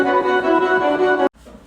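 Short, rapid staccato string notes from a song, a dense, driving orchestral pulse that plays alone and cuts off abruptly.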